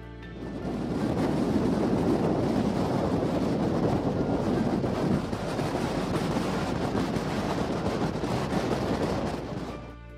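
A strong storm wind in Sweden roars steadily and loudly around the microphone for about ten seconds. It blusters in broad gusts with no voices.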